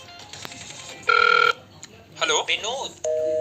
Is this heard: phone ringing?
yes